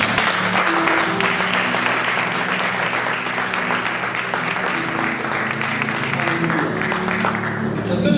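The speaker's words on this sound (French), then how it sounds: "Je vais rappeler sous vos acclamations le pasteur Elvis Moussa" Congregation applause and acclamation at a church worship service in Nantes, welcoming Pastor Elvis Moussa, loud and sustained throughout, with cheering voices and a steady musical hum underneath.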